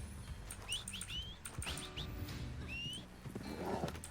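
A horse in the RedM game, with hooves clopping and a whinny mixed among chirping birdsong in an outdoor scene, fairly loud and continuous, with no voices.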